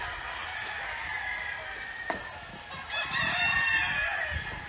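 Roosters crow and hens cluck nearby over a steady outdoor background, with a louder stretch of crowing toward the end.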